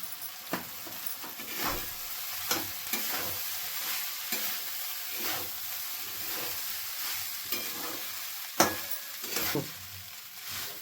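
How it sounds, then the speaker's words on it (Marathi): Soaked poha is tossed and stirred in a pan over a high gas flame, with repeated scraping strokes of the spoon rising over a continuous soft sizzle, close and fairly quiet. "चांगले हलवत राहायचे, खालीवर करायचे."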